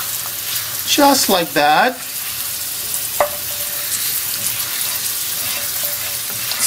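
Aromatics frying in hot oil give a steady sizzle and crackle, with someone speaking briefly early on and a single sharp clink partway through.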